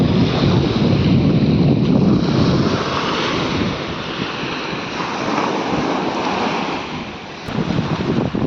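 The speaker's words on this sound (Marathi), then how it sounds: "पाणी जोरात येते बघ तिकडे खाली" Strong surf surges and crashes continuously onto Revdanda beach during high tide, a loud broadband roar of waves and rushing water mixed with wind buffeting the microphone, with no voices.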